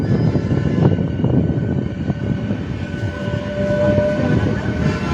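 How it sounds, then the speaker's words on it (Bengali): Inaugural special train pulling into Krishnanagar City Junction, a continuous loud low rumble and rolling drone with faint tonal whine, steady throughout with no voices. "কৃষ্ণনগর সিকি জংশনে প্রবেশ করলো ইনাগুরাল স্পেশাল ট্রেন"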